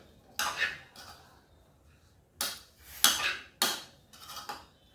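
A vegetable salad being tossed with salt and pepper in a bowl gives several short bursts of clinking and scraping utensils against the dish, spaced irregularly with quiet gaps between.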